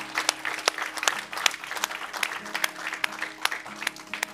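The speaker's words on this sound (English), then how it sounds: "Hey, that deserves an applause, doesn't it?" Church congregation applauding at a Sunday morning service after a prayer, a run of clapping with distinct sharp individual claps standing out over a low sustained keyboard tone.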